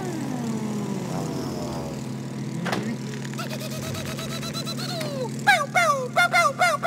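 Propeller airplanes fly past in the It Takes Two video game. A droning engine hum shifts in pitch and is joined by a sharp whoosh, then bursts of chirpy, twittering game sounds at the end. A voice speaks briefly.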